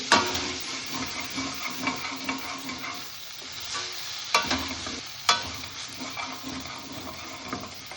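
Masala for a mushroom and pea sabzi sizzles steadily as it is fried and stirred in a kadai, with scraping stirs and a couple of sharp knocks against the pan. No voices.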